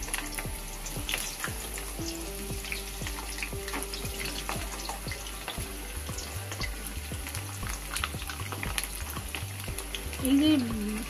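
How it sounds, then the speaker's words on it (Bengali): Cut potatoes fry in hot oil in a wok, a steady dense crackle and sizzle holding throughout with a faint brief clatter near the end. "এবার কেটে রাখা আলুগুলো ভেজে নেবো লাল লাল করে"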